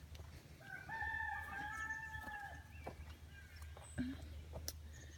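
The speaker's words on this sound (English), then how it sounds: "behind the raspberries is the chicken yard." Chickens in a backyard chicken yard: a rooster crows a long drawn-out call near the start, followed by scattered soft clucks and chirps at a distance, with faint outdoor background.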